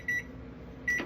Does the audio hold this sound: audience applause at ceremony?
no